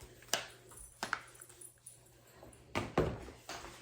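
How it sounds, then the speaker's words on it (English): A puppy that wants to play whimpers and yips in short, sharp bursts indoors, several separate cries spaced irregularly, close and moderately loud. "the puppy wants me to play"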